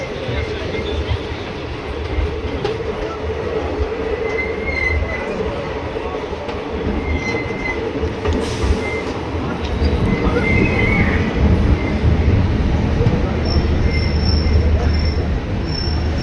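A train at Bijbehara railway station in Kashmir, a continuous loud rumble of rolling wheels with high metallic squeals recurring at intervals, growing louder in the second half, with faint voices in the background.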